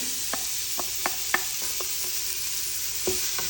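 Onions fry in a pan under a soft, constant sizzle, with a string of light spatula taps and scrapes as they are stirred.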